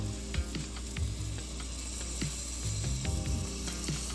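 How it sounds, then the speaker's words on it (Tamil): Mutton with thick curd sizzling loudly in a pan for a Chennai-style biryani, with repeated scraping and stirring knocks from a spatula over a steady hiss; no voices. "கர்ட் ஆட் பண்ணி நல்லா நீங்கள் மிக்ஸ் பண்ணி நல்லா வதக்கணும்"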